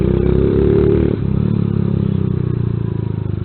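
A motorcycle engine runs close by with a loud, rhythmic throbbing beat, dropping slightly in pitch after about a second and then pulsing evenly with a faint clattering edge.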